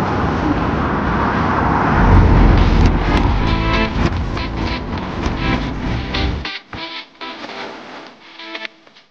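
A bus pulls up at a stop in Japan, a loud, steady engine rumble and road roar that builds, then cuts out abruptly and gives way to quieter clatter and hiss.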